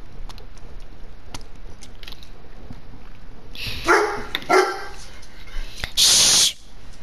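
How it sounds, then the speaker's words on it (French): Small dog barking in short bursts close by, a few sharp yaps followed by a longer loud bark, over quiet background with faint clicks. "Avant il aboyait pas, maintenant il aboie tous les jours."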